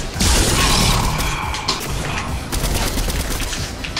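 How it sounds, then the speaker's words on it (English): Gunfire crackles in the video game Fortnite as rapid, clattering shots rattle close by in quick mechanical bursts over game noise. "I think someone's shooting at me."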